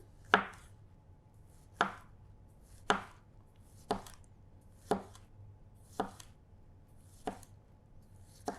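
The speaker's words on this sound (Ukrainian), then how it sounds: "Безумовно, нам потрібні томати. Нарізаємо скибочками." A knife slicing tomatoes on a cutting board for pizza: eight crisp, close chops at a steady unhurried pace, each a sharp tap against the board with quiet in between.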